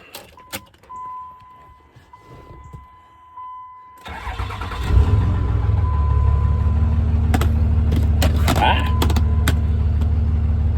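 A 2005 Dodge Ram 2500 with a 5.9 Cummins diesel and about 400k miles cranks and fires up after some quiet clicks, then settles into a loud, steady, rumbling idle close by.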